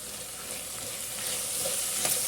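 Curry leaves and turmeric powder dropped into a frying masala, giving a steady close hiss of sizzling oil with a light stir and a brief crackle near the end.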